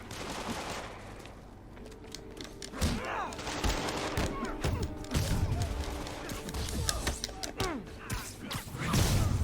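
Rapid gunfire and impacts during a street fight in Marvel's Spider-Man, with shots, thuds and crashes mixed with game music and brief voices, loud and close throughout.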